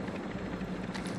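Helicopter rotor drone in the Call of Duty DMZ video game, a steady dense whir with rapid low chopping pulses, close and continuous, alone without talk.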